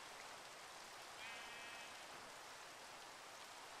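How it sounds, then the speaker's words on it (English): Steady rain in the game Minecraft hisses as a constant, even wash of noise throughout, quiet overall with a faint brief tone in the middle. "I wish it would be night so I can sleep the stupid rain away"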